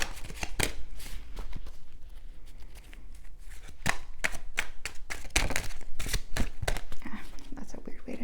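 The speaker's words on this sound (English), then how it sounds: "That's a weird way to shuffle them." Oracle cards shuffled by hand in an unusual way, with rapid crisp riffling and sharp slapping snaps in uneven bursts, close and fairly loud, while a person talks over them.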